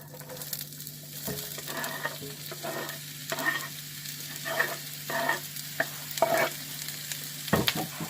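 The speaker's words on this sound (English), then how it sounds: "we are going to add the onions into the pan" Onions fry in a pan under a constant sizzle while a utensil stirs them in repeated scraping strokes, with a low steady hum beneath and a louder clatter near the end.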